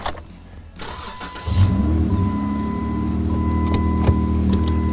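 A Jeep's engine cranks and catches after a few faint clicks and rattles, then settles into a steady, close idle while the vehicle backs up to tighten a winch rope.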